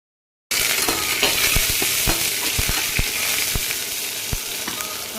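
Mustard seeds and curry leaves sizzle loudly in hot oil for a goat blood fry, a dense continuous crackle that starts abruptly after a short silence, with scattered sharp pops throughout.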